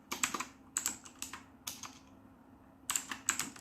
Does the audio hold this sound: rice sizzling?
no